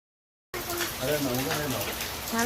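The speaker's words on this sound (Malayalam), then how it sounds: "നല്ല മഴയാണ്" Heavy rain makes a dense, steady hiss that starts suddenly. A person talks over it the whole time.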